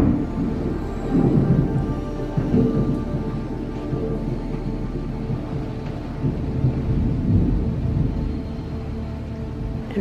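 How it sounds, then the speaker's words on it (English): A severe thunderstorm with hail outside, heard as a continuous deep rumble of thunder over steady rain noise, with a heavier roll early on and a muffled, indoor distance throughout. "there is an insane storm outside. There's been hail and thunder and crazy lightning."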